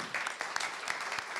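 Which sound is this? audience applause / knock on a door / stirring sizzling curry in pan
audience applause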